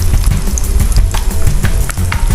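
Pieces of chicken fry in hot oil, giving a dense, crackling sizzle with scattered pops and spits, close and steady throughout.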